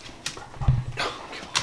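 A puppy whimpers in short, soft bursts close by, with faint household noise and brief voices around it.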